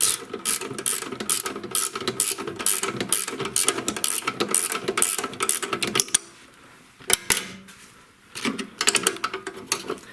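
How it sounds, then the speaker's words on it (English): Rapid clicking of a 13mm ratcheting wrench tightening a bolt on a snowblower's shifter arm, a steady run of close ratchet strokes that pauses briefly, then resumes in a few shorter bursts. "So I'm using a ratcheting 13mm wrench holding the other side of the bolt. I'm going to tighten it up quite a bit."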